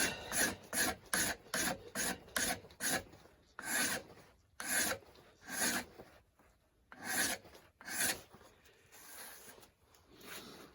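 A mill file rasps across a forged knife blade in quick repeated strokes, a rhythmic run of close scraping bursts with short gaps, slowing into longer separated strokes toward the end.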